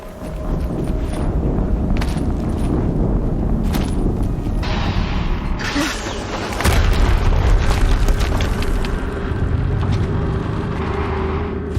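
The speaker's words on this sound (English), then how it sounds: "Another explosion." Explosions in the video game Horizon Zero Dawn, loud booming blasts with rumbling low end and sharp bursts, continuous heavy noise through the stretch with a stronger blast partway in.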